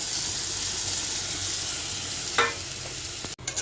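Potatoes fry in spiced oil for egg and potato ghati, a steady close sizzle with a brief stirring scrape partway through and a clatter near the end, no voices.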